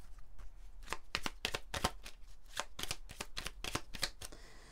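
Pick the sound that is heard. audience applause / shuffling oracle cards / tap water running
shuffling oracle cards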